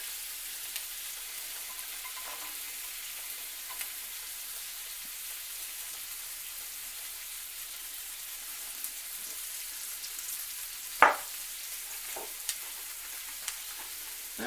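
Sliced garlic, half a head, sautés in a pan for lemon garlic shrimp, a steady soft sizzle with an occasional faint clink or stir.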